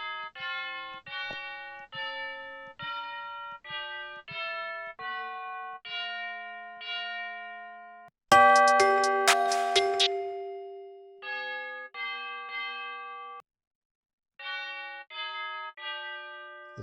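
A tubular bell sample in FL Studio plays a series of evenly spaced ringing notes. Midway, a louder, brighter strike rings out and decays before the repeated notes return.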